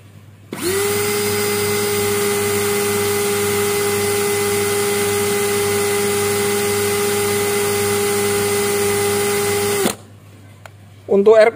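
A 12-volt cordless drill runs steadily at full speed under no load, a loud, constant high whine lasting about nine seconds before cutting off abruptly, after which a voice briefly speaks.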